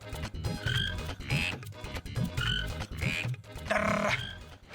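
Frogs croak in repeated loud bursts as a sound effect in a Hindi TV serial, several rasping calls following one another under a music bed, with a longer, fuller croaking burst near the end.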